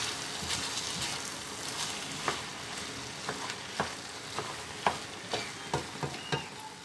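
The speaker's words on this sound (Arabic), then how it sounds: "وغادي نزيدو الربيع، وغادي نحرك كل شيء" Chicken pastilla filling with herbs being stirred in a hot pan: a continuous sizzle close by, broken by sharp spatula scrapes and taps that come irregularly, several per second.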